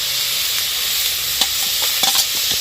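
Grated coconut and shallots frying in a pan for a ginger theeyal, a continuous bright sizzle with a couple of brief stirring scrapes near the end, no voices.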